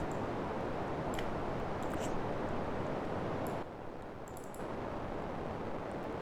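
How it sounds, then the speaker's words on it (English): Synthesized rain pitter-patter patched in VCV Rack, a dense, steady hiss of fine crackling noise with scattered brighter ticks on top, holding constant apart from a brief quieter dip near the middle, with no voices. "this is kind of how you make the pitter patter, which is like hitting the surfaces or whatever"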